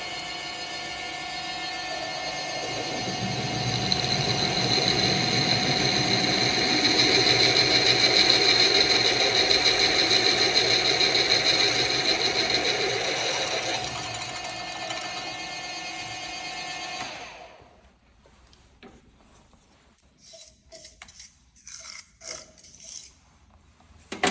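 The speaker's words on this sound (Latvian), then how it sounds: "varam uzsākt pārurpšanu. Esošo urbumu vēlreiz izurpšanu." A steady, high-pitched whine of a drill re-boring an existing hole in metal runs for many seconds, then stops, leaving scattered small clicks and taps.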